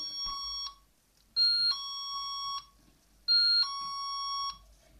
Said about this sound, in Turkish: Çaldık arkadaşlar zili